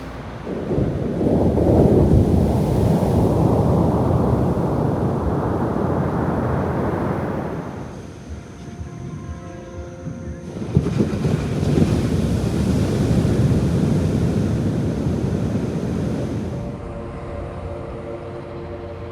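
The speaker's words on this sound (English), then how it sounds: "it created a very relaxing ambience with the white noise of the crashing waves" Big surf on a Sri Lankan beach along the Indian Ocean, loud close waves surging and crashing in long roaring swells, with wind buffeting the microphone and a lull between breakers.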